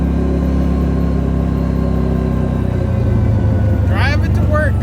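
A CFMOTO ZForce Z950 UTV driving with new rear differential gears, its engine a steady loud low drone close by, with people talking over it.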